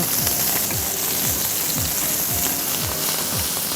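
Veal sweetbreads sear in hot fat in a frying pan, giving a loud, continuous, close sizzle and crackle with a low rhythmic undertone and no speech.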